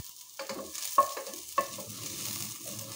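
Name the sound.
sautéing onion and garlic in pan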